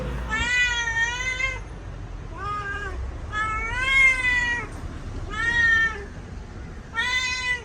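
A pet cat meows five times in close succession, loud and near, each cry drawn out and wavering, with short pauses between them and no talking.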